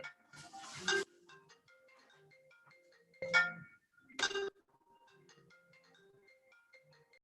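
A telephone ringtone chirps in a tinkling melodic pattern through a city council meeting room, quiet and steady, with a few louder bursts of room noise between phrases.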